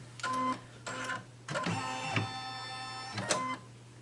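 An embroidery machine stitching a gnome design runs in mechanical bursts, a rapid whirring, tonal needle chatter that starts and stops several times at close range, with no voices.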